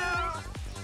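A cartoonish cat from the game Raise a Floppa 2 lets out quick, short meows in a brief burst, close and distinct.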